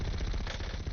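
Rapid, dense bursts from a mounted machine gun in Call of Duty Warzone, loud and continuous for a brief stretch with no pauses between rounds.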